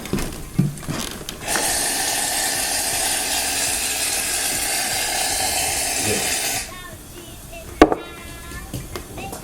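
A can of shaving cream sprays out for making slime, a loud, close, steady hiss lasting about five seconds, framed by handling clatter and a sharp knock afterward.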